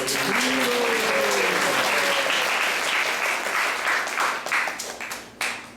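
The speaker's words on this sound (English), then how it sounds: "So let's give a round of applause for her." A round of applause from a temple congregation at an ISKCON Sunday class in Atlanta, sustained dense clapping that tapers off with a few last claps.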